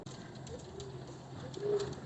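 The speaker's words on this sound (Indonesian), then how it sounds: "Namanya burung kan berkembang biak itu Mas Eko." Pigeons coo softly at a pigeon-breeding farm, low throaty calls rising near the end over a quiet background hum, with no talking.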